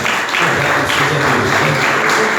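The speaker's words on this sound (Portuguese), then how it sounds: "Aplauda ao Rei Jesus, vem fora, porque Ele merece" A church congregation claps in a dense, loud, continuous wash of applause that lasts only a moment.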